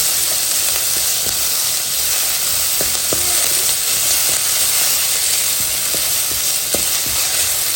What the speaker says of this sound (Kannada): ಈರುಳ್ಳಿ ಸ್ವಲ್ಪ ಬಾಡೋವರೆಗೆ ಇದನ್ನು ಹುರ್ಕೊಳ್ತೀನಿ